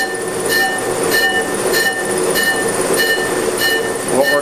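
Warped brake rotor spinning on an Accu Turn disc lathe with a cutting tool touching it, giving a steady mechanical whir with a regular pulse repeating about every 0.6 seconds, loud and close with no talk.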